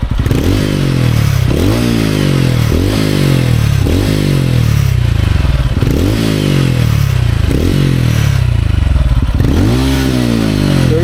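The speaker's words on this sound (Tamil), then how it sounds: "இதோட எக்ஸாஸ்ட் சவுண்ட் பற்றி நான் காமிச்சிடுறேன்" A TVS Ronin 225 motorcycle exhaust revved repeatedly while stationary, with loud, close blips that climb in pitch and fall back about every second, heard alone over a steady engine rumble.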